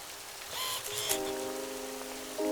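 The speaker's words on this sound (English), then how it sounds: "It was a rainy day, but the park was packed." Rain falls steadily on a day out in Korea, a faint, even patter with a few brief higher tones over it.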